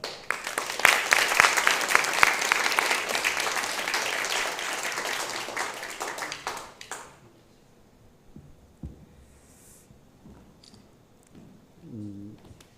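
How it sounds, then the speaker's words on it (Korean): A church congregation at a Sunday afternoon worship service applauds warmly in welcome, a dense burst of clapping that fades out after about seven seconds, leaving quiet room sound and a few faint noises. "우리 박수로 한번 뜨겁게 환영하겠습니다"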